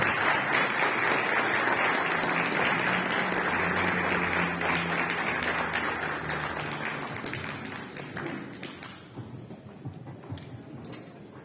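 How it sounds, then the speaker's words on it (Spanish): Concert audience at an orchestra performance of Vivaldi and Mozart applauding the musicians, a long loud wave of many hands clapping that slowly thins out toward the end. "Recibámonos con un fuerte, fuerte aplauso a los maestros,"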